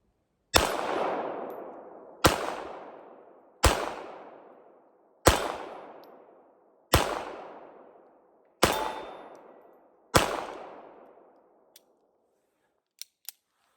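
Seven sharp pistol shots ring out at an outdoor shooting range, spaced roughly a second and a half apart, each followed by a decaying echo, then a few faint clicks of handling afterward.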